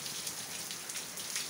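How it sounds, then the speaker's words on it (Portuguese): Steady rain falls on a house in Assaré, Ceará, a soft, even patter with scattered droplet taps, quiet and continuous with no voices. "Ele gosta de chuva, realmente. Está observando a chuva."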